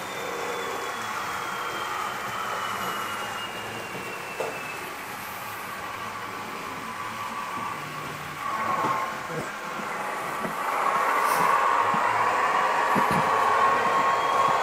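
Märklin H0 model train rolling along a club modular layout, a faint steady running hum with light rail clatter that grows somewhat louder toward the end, amid room murmur.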